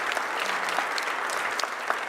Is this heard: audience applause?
yes